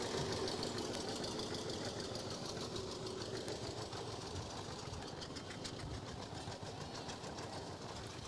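An old two-cylinder John Deere tractor runs in a parade, its engine putting out a steady, fairly faint rhythmic chugging under a broad background hiss, no talk.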